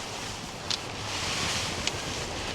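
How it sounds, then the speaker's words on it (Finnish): Strong wind blows outdoors around a Big Agnes Tiger Wall 2 UL tent, a steady broadband roar buffeting the microphone with a couple of brief flaps, and no talking. "Ja kyllä täällä tosissaan sen verran tuulee."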